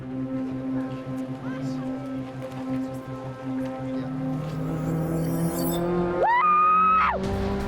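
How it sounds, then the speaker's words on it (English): A race car during a brake test idles and rolls with a steady engine hum, then near the end a short rising tire squeal cuts in and stops. "We need to test it just to make sure brakes are working and how far the car pulls to the left"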